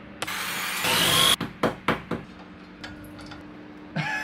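Screws being driven into a wall to secure a TV mount, with a steady power-drill whir followed by several short bursts of the driver biting in, close and loud.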